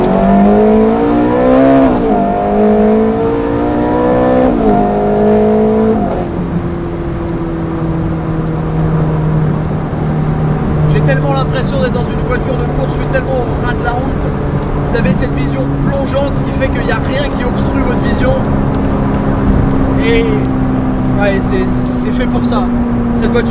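Ferrari 430 Scuderia engine revving hard and accelerating through rising gear pulls, then settling into a steady loud drone with rising pitch, close and dominant throughout.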